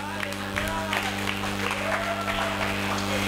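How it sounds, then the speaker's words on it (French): A church congregation claps together in a sustained burst of applause, moderately loud with a roomy sound, with a voice heard over it. "Acclamons très fort."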